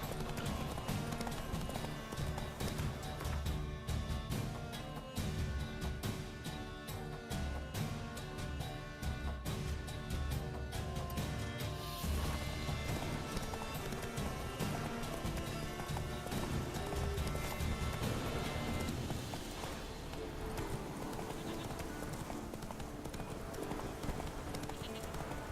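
Roach, the horse in The Witcher 3, gallops with rapid, rhythmic clip-clop hoofbeats that run continuously under a dense game soundtrack, with brief voice lines mixed in.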